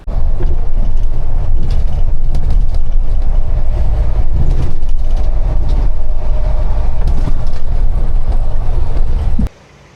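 Continuous loud rumbling and rattling of a tram in motion, steady throughout before cutting off abruptly near the end.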